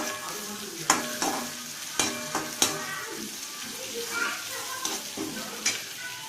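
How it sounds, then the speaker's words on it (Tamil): Curry leaves and green chillies hitting softened onions in a pan for an Indian prawn gravy, giving a steady low sizzle broken by several sharp scrapes of a spoon stirring, close and without talk. "கிள்ளி வச்சுருக்க கருவேப்பிலை, பச்சை மிளகா 2 ஆட் பண்ணிடுறோம்."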